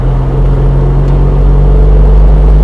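A 1986 Alfa Romeo 75 V6 pulls in fourth gear with a loud, steady drone and heavy low hum filling the cabin and no talk.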